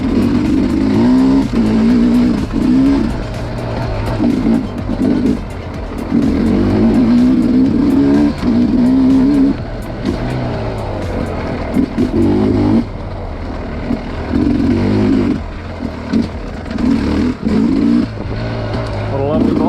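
A 2021 Sherco 300 SE Factory dirt bike engine revs loudly while being ridden, rising and falling throttle blips with a buzzing two-stroke drone, close to the rider with wind noise throughout.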